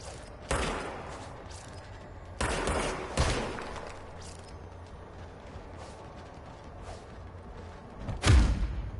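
Gunfire in the video game Control: several bursts of shots at intervals, each a loud sharp crack with a short tail, over a steady low game background hum and no talking.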